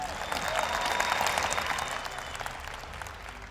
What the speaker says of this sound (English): Please give the winners a round of applause one more time.